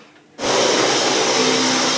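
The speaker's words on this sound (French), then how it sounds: "Tu vas prendre l'aspirateur et passer l'aspirateur." Vacuum cleaner switches on after a short quiet moment, then runs with a loud, steady roaring whine that fills the rest of the clip, no voices.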